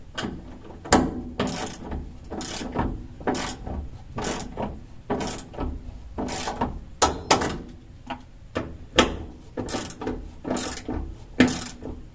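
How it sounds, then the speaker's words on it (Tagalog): A torque wrench ratchets in sharp, repeated clicks while tightening bolts on a fuel pump assembly for a 4AGE engine, the quick metallic bursts coming in irregular clusters, close up with no talk. "So, gagamitan ko na siya ng torque wrench."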